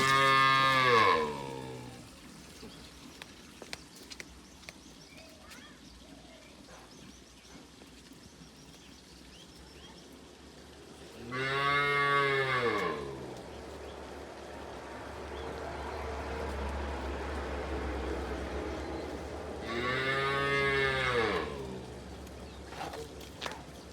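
A calf moos three times, with long pauses and faint background noise between the loud, drawn-out calls.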